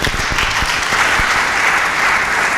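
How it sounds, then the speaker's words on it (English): At a women's business summit, the audience claps for the founder of the organising group in a full, sustained round. Distinct strong claps come early, then the applause settles into an even roar. "Give the founder of StarCrest a round of applause."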